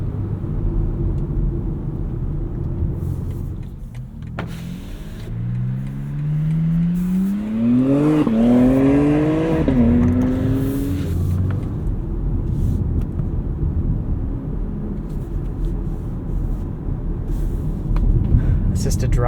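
A 2025 BMW X3 30 xDrive driving on the road, a steady cabin rumble of engine and tyres with a rising, shifting engine tone through the middle as it accelerates, under a voice.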